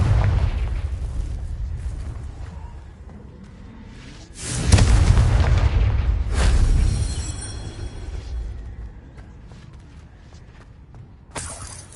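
A Confringo fire spell explodes in Hogwarts Legacy, a loud bursting blast that swells and rumbles for a couple of seconds, followed by a second crackling burst and a short sharp hit at the end.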